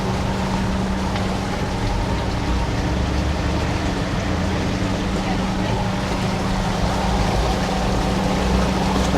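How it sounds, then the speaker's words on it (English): Bangkok electric boat taxi with a small electric outboard motor, carrying up to six passengers: a loud, steady rush of motor, water and wind that holds unchanged throughout. "Got a little electric outboard motor there."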